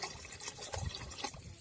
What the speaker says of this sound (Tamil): அதனால ஒரு அரை டம்ளர் அளவுக்கு தண்ணி சேர்த்துக்கலாம்.